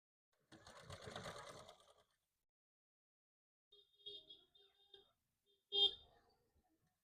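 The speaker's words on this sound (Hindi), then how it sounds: "तो इसके ऊपर मैं सिलाई लगाऊंगी" A sewing machine stitches fabric for a katori blouse in two short whirring runs separated by pauses, close and clear, with someone talking briefly beforehand.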